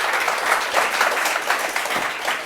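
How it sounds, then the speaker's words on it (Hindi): Loud, dense audience applause at a student selection celebration, with bursts of clapping rising and falling, no voices on top. "तालियां भाई जोर से भाई।"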